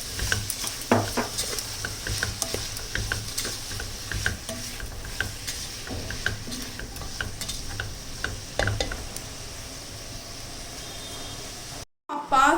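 Onions cooking in a pan with a little salt for Kerala prawn mappas are stirred with repeated scraping clicks over a continuous sizzle, close and fairly even, cutting out abruptly near the end.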